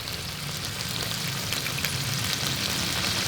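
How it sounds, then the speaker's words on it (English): Oil bubbling and sizzling steadily in a pan of pork dinuguan, dry Ilocano style, cooking over low to medium heat, a close, continuous crackle like light rain with no voices. "you definitely can hear the oil percolate over"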